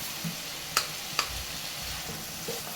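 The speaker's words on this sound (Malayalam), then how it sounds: "ഇനി നമുക്ക് ഈ ഉരുളക്കിഴങ്ങ് ഇതിലേക്ക് ഇട്ട് കൊടുക്കാം." Potatoes going into oily masala sizzling in a pan: a constant soft frying hiss with a few sharp clicks and light knocks as the pieces drop in.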